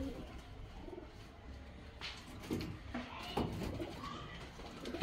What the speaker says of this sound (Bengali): এই দেখুন কবুতরের ডাক, পায়রা। এই একটা ডাক শুরু হইলে আরেকটা ডাকন শুরু করে।